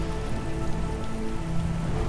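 Light drizzle falling, a steady, even patter of fine rain on surfaces that stays close and continuous throughout, with no voices.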